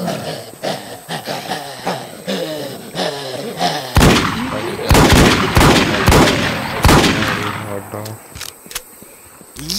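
Rapid bursts of gunfire rattle off at a heavy zombie in WarZ, the shots coming in a dense volley in the middle of the clip, with players talking before and around the shooting.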